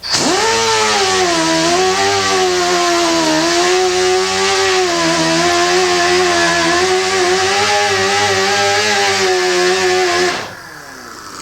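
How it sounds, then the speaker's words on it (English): An angle grinder working on damaged car body metal, a loud sustained high whine with slight wavering pitch as it bites into the panel for about ten seconds, then spinning down abruptly. "start by grinding an area well past where that high spot was so you'll get into the metal that's not damaged"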